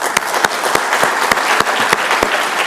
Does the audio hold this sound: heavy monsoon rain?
no